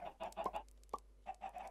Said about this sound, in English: There's some tough chickens in here, by the looks of things.